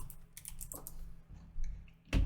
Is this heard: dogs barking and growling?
no